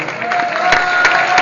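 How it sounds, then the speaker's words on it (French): An audience applauds at a live comedy show, a steady wash of clapping with no one speaking over it. "vous pouvez l'applaudir"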